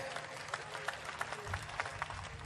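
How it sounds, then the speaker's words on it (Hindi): Applause from the audience at a Hindi comic poetry gathering, a hasya kavi sammelan: a dense, steady patter of many hands clapping, faint and somewhat distant. "एक बार जोरदार तालियों से मुझे आदेशित करें।"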